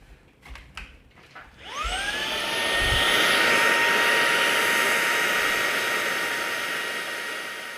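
A Proscenic P11 cordless stick vacuum starts with a few clicks and then spins up into a loud, steady high-pitched whine and airflow roar that holds close by to the end.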